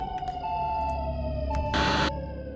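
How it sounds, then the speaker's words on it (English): An emergency siren wails steadily in the background, distant and fairly faint beneath a low indoor hum, with a brief rustling noise close by. "The siren in the back is so off-putting."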